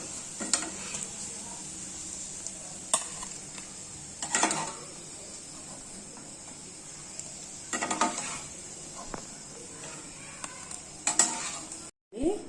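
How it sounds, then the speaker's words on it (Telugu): Paneer cubes fry in butter in a kadai, with a steady soft sizzle beneath intermittent scraping and clinking of a spoon stirring against the pan, close by and without speech. "ఈ పన్నీర్ను లైట్గా వేయించుకుందాము, లైట్ గోల్డ్ కలర్ వచ్చేంత వరకు"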